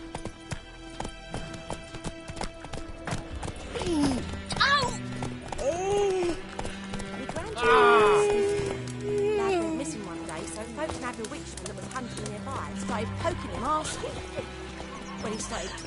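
Galloping horse hoofbeats in The Witcher video game, a steady clip-clop running under music and occasional in-game voices.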